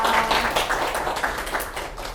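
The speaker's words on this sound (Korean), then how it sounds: "큰 박수 맞이해주십니다" An audience at an Incheon aviation industry science and technology seminar claps to welcome a research director to the podium, a dense burst of individual claps that is loud at first and gradually thins out.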